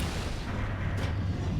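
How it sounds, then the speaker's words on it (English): Grenade explosions blowing up constructors in Halo 2 on the Sacred Icon level: a continuous, heavy, rumbling roar of blasts with no clear gaps, loud and dense throughout. "So blow those up with grenades."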